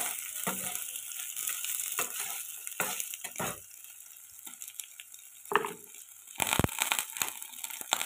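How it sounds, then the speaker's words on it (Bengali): Paneer cubes that sat in the fridge for several days fry in a pan, with a quiet sizzle broken by scraping stirs and clatter. The sizzle dips in the middle and the stirring picks up toward the end, with no voice. "তো চলো এবার আমরা পনিরটা ভেজে নিই ভালো করে।"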